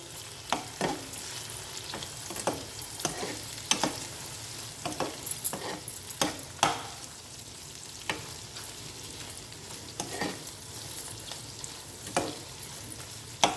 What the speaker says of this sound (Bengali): ফ্লেমটাকে হাইটে রেখে একটু নাড়িয়ে চাড়িয়ে আমাদের ভেজে নিতে হবে